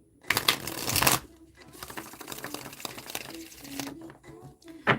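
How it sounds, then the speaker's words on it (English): A tarot card deck is shuffled in two bursts of crisp, close riffling and flapping, followed by softer card handling and a final snap, with no talk heard. "I'm going to shuffle up this deck 3 times."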